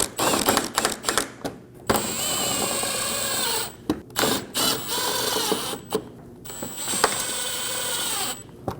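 Screws driven into a Scion xB front fender liner with a power driver, repeated close bursts of whirring and ratcheting separated by brief pauses.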